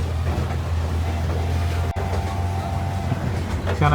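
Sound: train starting and running

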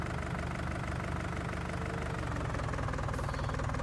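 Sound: tractor engine idling in a farming video game

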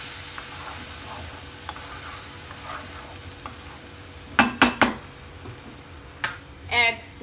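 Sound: stirring masala paste in a cooking pan

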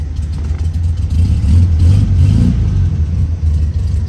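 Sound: VW Beetle engine starting and revving

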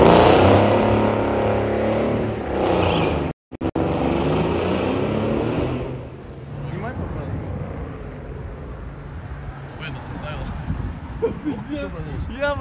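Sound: BMW M2 G87 engine revving

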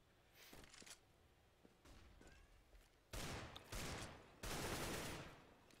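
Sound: gunfire in Counter-Strike: Global Offensive video game

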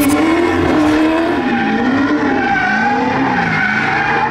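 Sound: car skidding played through Sony BDV-E370 surround system

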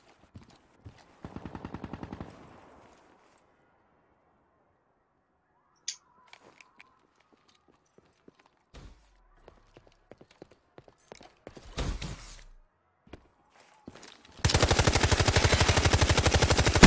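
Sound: gunfire in the video game Black Ops III

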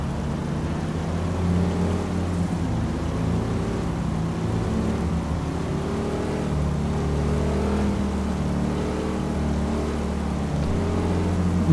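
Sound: cars driving on a road in the video game GTA 4

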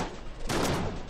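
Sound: firing the Garand rifle in the video game Enter the Gungeon

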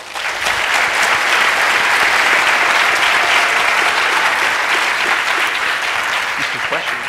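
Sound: audience applause

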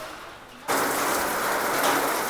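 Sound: heavy rain falling

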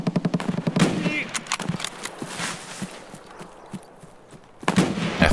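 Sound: gunshots in the video game Escape from Tarkov

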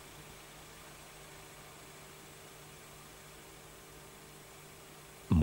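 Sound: Audi 80 B engine idling

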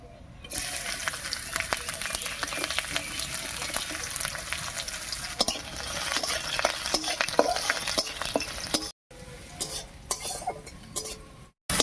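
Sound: chopped garlic stir-fried in mustard oil with black cumin

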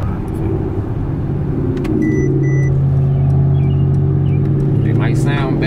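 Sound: Mercedes-Benz car engine accelerating

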